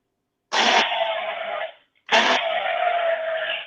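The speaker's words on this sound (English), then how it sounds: "When you use an immersion blender, it always seems like we have to defeat something. It's like a war." An immersion blender whirs through peas in two separate bursts, each starting with a sharp, loud attack and then settling into a steady grinding drone. A brief gap of silence falls between the bursts.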